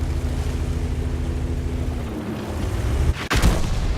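In the World of Tanks video game, a tank takes a shell hit: a sudden sharp impact crack with a heavy low boom cuts through a steady rumbling battle ambience near the end.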